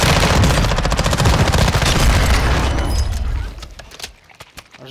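Gunfire in the Call of Duty video game, loud rapid automatic bursts layered with heavy booms for several seconds before thinning out into a few scattered distant shots.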